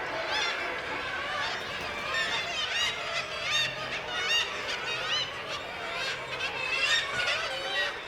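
Seabird parents and chicks crowd a cliff colony, a dense wall of overlapping honking and chattering calls rising and falling throughout, with a narrator's voice running over the top.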